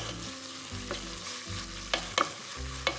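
Minced meat is stirred with a wooden spoon in a hot pan for rice soup, a steady close sizzle broken by a few soft scraping knocks of the spoon.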